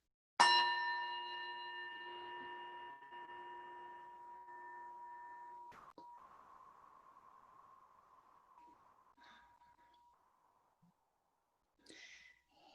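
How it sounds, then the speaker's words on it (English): A single bell is struck once to open the next section of a talking circle, ringing loudly with a long, steady, slowly fading tone over several seconds before a faint soft sound near the end. "So I'm going to ring this bell to start this next section."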